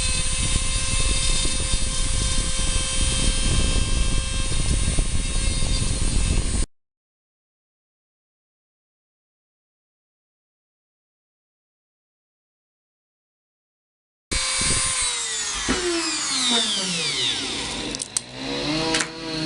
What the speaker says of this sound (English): what I'm using is a Dremel with just I think that's a carbide bit or something, but I'm just gonna grind off these two areas